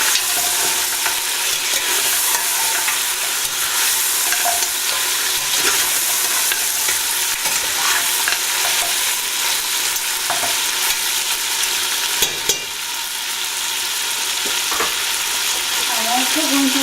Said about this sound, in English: just fry the meat in that mixture